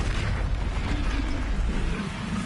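Incendio fire spell cast in Hogwarts Legacy, a steady roaring, whooshing burst of flame mixed with rumbling game noise, continuous and fairly loud throughout.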